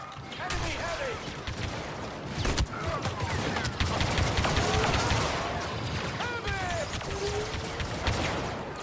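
Blaster gunfire and impacts crackle through a Star Wars Battlefront 2 campaign firefight, dense and continuous over a noisy battle bed, with shouted voices and radio chatter mixed in.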